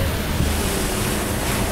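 Ocean surf rushes continuously beside a beach where vehicles drive on the sand, a loud, steady wash mixed with wind buffeting the microphone.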